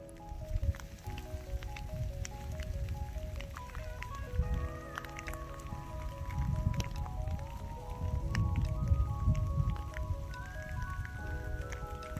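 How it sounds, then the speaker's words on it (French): Steady rain patters and drips on a hiking trail between Le Puy-en-Velay and Le Monastier, a soft continuous wash of droplets close by, with a faint tonal background running underneath. "si seulement il pouvait s'arrêter de pleuvoir"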